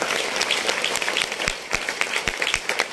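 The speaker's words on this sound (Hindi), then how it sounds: "एक बार जोरदार तालियां होनी चाहिए" An audience at a business achievers' event claps loudly, with a fast, dense rattle of hands and a few sharper individual claps standing out near the end, all without speech.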